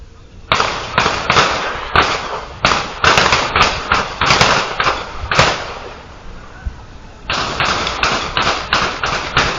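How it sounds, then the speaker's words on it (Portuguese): A recording of gunfire in a park plays back as a rapid string of about twenty sharp, loud bangs in uneven bursts, with a brief lull midway before the shots resume. "ouviu-se como 15 a 20 disparos, exatamente como este vídeo vos vai dizer"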